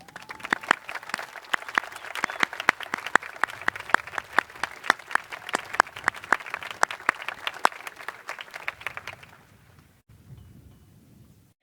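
Graduation ceremony audience applauding as honor-cord students stand, moderate crowd clapping with crisp individual claps, fading out toward the end and leaving quiet room tone.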